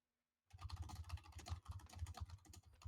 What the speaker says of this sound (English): You're typing at light speed.